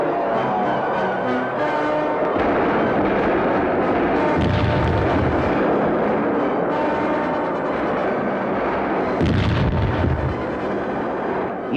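Symbolic explosions closing a 1979 navy frogman demonstration in Vouliagmeni bay, heard as dense, continuous booming and crackling with heavier blasts near five and nine seconds, loud throughout with no voices.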